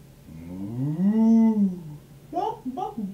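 A human voice imitates a cow with one long rising and falling moo, followed by a couple of short voiced sounds.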